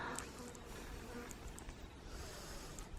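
A bee buzzes nearby outdoors, a soft, continuous drone that stays faint over the low background hum for the whole few seconds, with no one talking.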